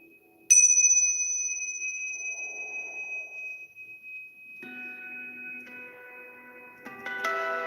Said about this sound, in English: Just gonna move these chimes here.